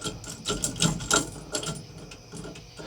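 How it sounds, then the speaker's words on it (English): A hand ratchet tightens lag bolts on the steering wheel of a 1960–66 Chevy C10 pickup, giving quick bursts of close, crisp mechanical clicking in an uneven rhythm, with no talk. "We can go ahead, crank them down a little bit more."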